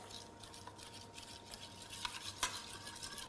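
Honey and orange juice stirred together into a marinade, a soft continuous swishing with light clinks of the utensil against the bowl, close and quiet.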